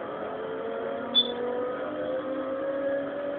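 Engine drone of race cars in Forza Motorsport 4 at Sebring, with a Lexus race car passing; a steady, fairly loud hum of revving engines runs throughout without speech, with a brief sharp chirp near the middle.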